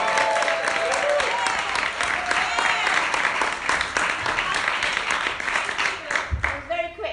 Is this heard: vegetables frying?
no